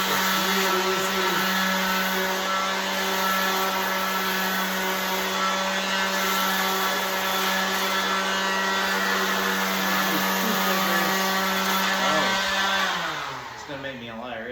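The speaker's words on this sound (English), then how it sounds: "this thing does sand as fast or faster" A Makita or Milwaukee electric sander hums steadily and loudly at a constant pitch while sanding, then winds down toward the end.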